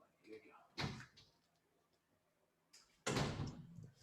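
A back door is opened to let a dog out, giving two short, close knocks and clatters a couple of seconds apart, with quiet room tone between them.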